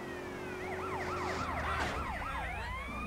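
An ambulance siren in the video game GTA San Andreas wails loudly and continuously in rising and falling sweeps, with a steady engine-like drone underneath and no voices.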